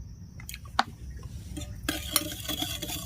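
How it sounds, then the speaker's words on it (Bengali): Spoon stirring cake batter in a bowl after white oil and sugar are added, quiet scraping and a few light clinks against the bowl, growing busier toward the end. "তেলটা দেওয়ার পরে আমি আবারও মিশিয়ে নিচ্ছি।"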